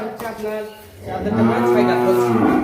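A Holstein Friesian cow at a cattle market lets out a long, loud, low moo that swells and holds before trailing off, close by.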